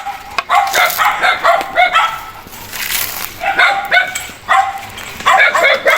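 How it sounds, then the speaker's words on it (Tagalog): Several dogs barking and yipping in a mountain village setting, repeated bursts of close barks with short gaps, some whimpering yelps mixed in, alongside light background talk. "Yung mga aso dito, Papa P."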